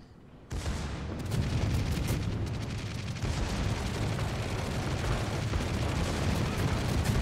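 Three cruisers' guns firing rapidly in a naval video game battle, a dense, sustained barrage of overlapping booms and cracks that starts abruptly and rumbles on continuously, loud and close, with no talking.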